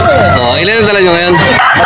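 Chickens cluck and call close by at a poultry market in Calumpit, Bulacan, Philippines, while people talk loudly in Filipino over them.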